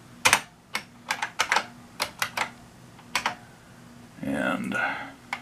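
Computer keyboard typing while renaming a file, a few scattered bursts of sharp clicks and key taps at close range, followed by a short louder rustle near the end; no voices.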